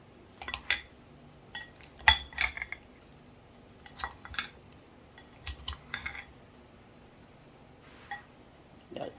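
A fork scrapes and clinks against a dish while cutting up stuffed bell peppers, with scattered sharp metallic taps and clatters at an irregular pace, close and moderately loud, with no talking.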